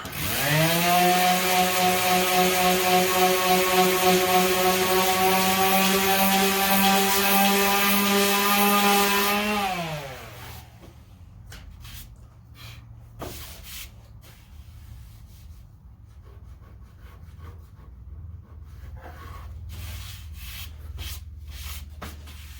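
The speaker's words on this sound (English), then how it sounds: "this corner is a little bit dipped, so I'm going to sand it just a little bit more" A power sander works a dipped corner of a laminate countertop with a loud, steady whine that spins down about ten seconds in, leaving quiet scuffing and small knocks.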